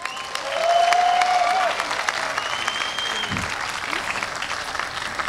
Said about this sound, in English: Let's give the organizers